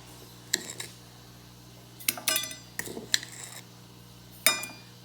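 A metal spoon and a measuring cup clinking as they are picked up and handled in a home kitchen, several sharp bright clinks and taps in irregular sequence, close by and fairly quiet, with no talking.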